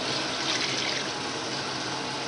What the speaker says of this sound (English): My mom is adding a little more water.